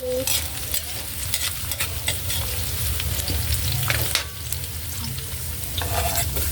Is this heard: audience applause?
no